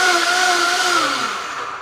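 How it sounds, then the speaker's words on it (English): A kitchen blender whirs loudly and steadily while blending a sea moss colada, its motor pitch sliding slightly lower as the load thickens, with no talk over it. "Oh, you got a blender for it."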